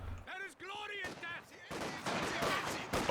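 Rifle shots in a Company of Heroes 2 match, sharp cracks ringing out amid battlefield noise, with a commentator's voice at the start and sustained gunfire building toward the end.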